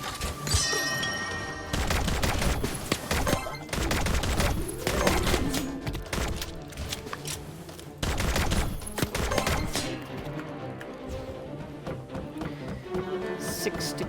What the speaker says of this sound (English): I think we're gonna stick with our pistol here